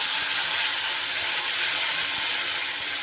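Ground spice paste tipped into hot oil tempered with bay leaves and whole cumin, giving a loud, steady broadband sizzle and hiss that carries on unbroken throughout, with no voices.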